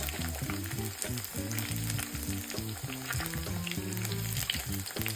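Jamaican dumplings and plantains frying in a pan for an old-school breakfast give a steady, close crackling sizzle over a loud, rhythmic low-pitched background throughout.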